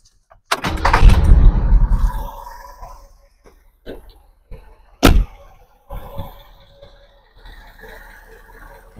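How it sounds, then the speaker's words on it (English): A 1967 Lincoln's engine cranks and catches with a loud burst that quickly settles, followed by scattered clunks and bangs and quieter running noise. "So I'm going to start it up with max AC and see what the reading does."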